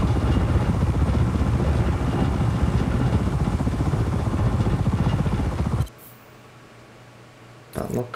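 A helicopter in the Just Cause 4 video game drones loudly with a dense, rotor-driven roar for several seconds, then cuts away abruptly to near silence before a brief burst returns.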